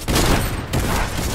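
A rifle in the video game Fortnite fires in a dense burst, loud and close, with a brief dip before the shots continue.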